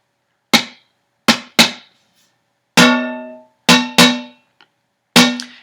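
A big pot struck as a hand drum beats out a dotted quarter, eighth, quarter pattern and then rests, each hit a sharp metallic knock with a quick ringing decay, repeated a few times close up, no voices.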